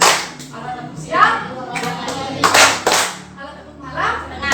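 A class of children claps hands in a classroom, bursts of claps landing in short rhythmic groups amid children's voices and a teacher talking.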